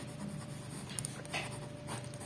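Handwriting on paper or a board during an accounting lesson, soft scratchy strokes in short bursts at low level, with faint background hum and no speech.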